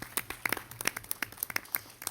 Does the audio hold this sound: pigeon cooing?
no